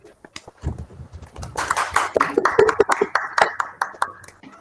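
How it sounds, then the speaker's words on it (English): Conference participants clap for one another at the close of a higher-education conference, a scattered, uneven patter of hand claps building over a few seconds, with some voices mixed in. "clap for each other for a wonderful work."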